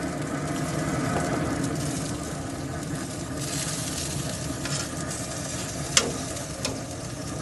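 Chicken wings coated in hot sauce sizzle steadily on a grill, a dense, continuous crackling hiss with a couple of sharp pops near the end.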